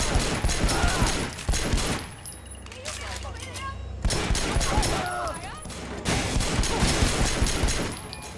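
Gunfire in the Sleeping Dogs video game during a hospital shootout, rapid bursts of automatic shots in loud clusters separated by brief lulls, with someone talking between the bursts.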